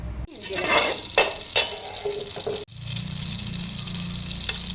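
A cube of butter hits a hot pan while cooking palak paneer, then bubbles and sizzles up close with a couple of scraping clicks before settling into a steady, louder fry.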